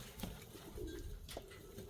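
Pigeons coo softly in a brief, faint stretch, with a low murmuring call or two rising over quiet background noise and no talk.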